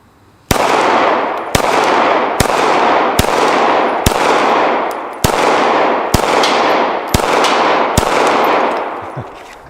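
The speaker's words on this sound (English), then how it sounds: "Shoot that big hanging propane tank a couple times." Glock pistol shots ring out at a big hanging propane tank outdoors, about nine sharp, loud cracks spaced roughly a second apart, each trailing into a long echoing decay, with no voices.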